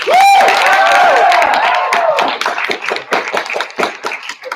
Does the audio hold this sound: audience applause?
yes